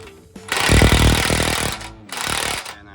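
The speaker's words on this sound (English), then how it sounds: "It didn't work with the impact gun." An impact gun hammers loudly at a rusted bolt on a boat trailer, roaring in a long burst followed by a short pause and a second shorter burst, close by.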